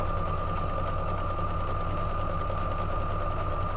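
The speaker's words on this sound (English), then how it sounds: "we are just sewing up the rows here 2 at a time" Sewing machine stitching quilt rows two at a time, a steady continuous whirring hum with a constant tone running unbroken throughout, close and alone with no talking.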